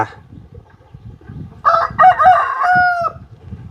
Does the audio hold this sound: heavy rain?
no